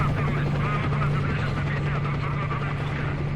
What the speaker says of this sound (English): these helicopters are so fucking noisy